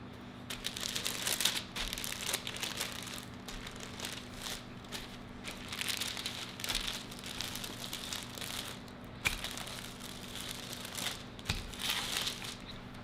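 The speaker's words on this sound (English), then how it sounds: "We're going to put on some parchment paper or wax paper, put a piece over top, and then you're going to roll out the shape." Fathead low-carb pizza dough being rolled out between sheets of parchment or wax paper, giving soft repeated crinkling and rustling strokes at close range, faint and without talk.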